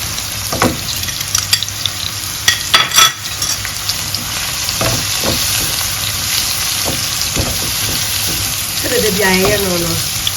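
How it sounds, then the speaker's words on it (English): Onion, garlic, cayenne pepper and curry powder frying in oil in a pan, giving a steady close sizzle with a few clinks and stirring scrapes, and a brief voice near the end. "You really need to fry some onion on the bottom"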